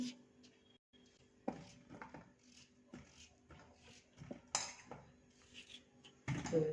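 Knife cutting peeled potatoes into medium pieces, producing scattered light clicks and taps on a board or dish with quiet gaps between them in a quiet kitchen.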